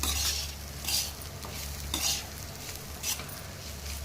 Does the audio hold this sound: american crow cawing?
no